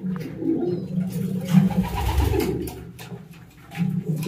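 Pigeons in a loft, one in full moult, coo in low, throaty, repeated phrases close by, with soft rustling between calls and no one talking.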